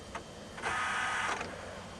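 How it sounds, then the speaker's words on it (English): Instrument cluster gauge motors in a Trailblazer whirring through a power-up self-test after fuse 24 is reinserted, a short tick followed by a steady buzzing hum lasting under a second, close and fairly quiet. "the cluster got powered up, and it actually did a little, I guess maybe it's a little self-test it does on all the little motors because they all pulled down"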